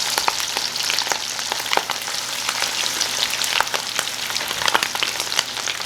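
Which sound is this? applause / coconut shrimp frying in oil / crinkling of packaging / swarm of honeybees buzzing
coconut shrimp frying in oil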